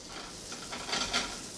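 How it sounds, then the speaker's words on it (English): Butter sizzles softly in a pan at a campground breakfast, a faint, steady crackling hiss that swells in two brief surges. "The butter is sizzling."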